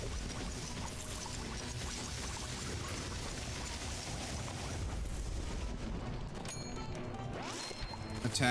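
An explosion in a tower defense video game sets off a loud, sustained rumbling roar that fills the whole stretch, swelling slightly and ending in a sharper burst.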